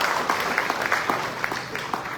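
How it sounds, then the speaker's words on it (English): An audience applauds organizers at a Hindu mandir event in South Africa, a steady patter of claps that holds evenly at moderate loudness for a couple of seconds, with no speech over it. "please give them a round of applause"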